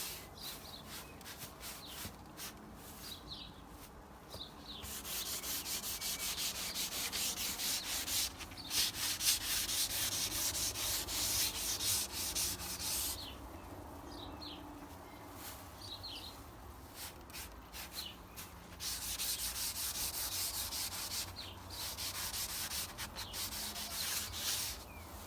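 Abrasive pads rub across outdoor weatherboards, a continuous scratchy sanding sound close by and fairly quiet, with brief pauses in the strokes and no talk.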